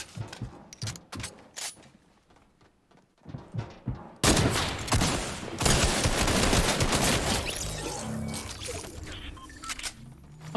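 Gunfire in Fortnite Battle Royale during its Borderlands crossover: scattered single shots at first, then a sudden loud burst of sustained rapid fire that keeps going to the end.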